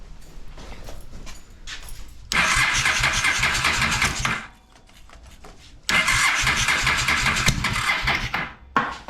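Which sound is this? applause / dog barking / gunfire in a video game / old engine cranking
old engine cranking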